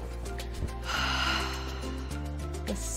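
A person snores loudly and close, with a deep, rattling drone that holds steadily and a few snorting catches in the breath.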